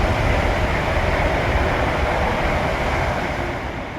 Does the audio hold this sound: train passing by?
yes